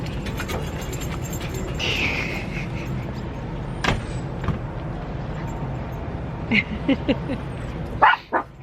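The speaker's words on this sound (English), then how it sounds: "sounds like there's some trouble inside the camper. The dogs are a little upset." Muffled dogs bark and yip intermittently from inside a camper, over a steady engine-like rumble, with a sharper yelp near the end.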